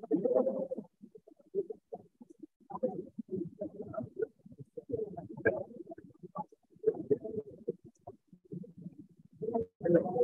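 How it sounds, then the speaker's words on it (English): Pigeons coo in repeated, low, throaty bursts through the whole stretch, steady and fairly close, with no talking over them. "I would suggest everyone come here from this angle to view the birds."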